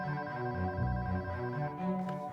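A telephone ringing with a soft, steady electronic tone that repeats in even pulses throughout, faint and somewhat distant, with no talking.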